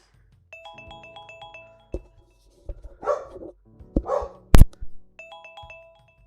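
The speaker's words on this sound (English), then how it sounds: "My dog is going a little crazy" A dog named Luna barks in a short burst of loud, close yips and woofs, with a chime-like ding-dong tone ringing before and after.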